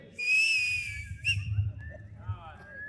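A high, piercing whistle rings out, then a shorter second blast, announcing the bride's entrance at a 25th wedding anniversary reception, over a low murmur of crowd noise in the hall.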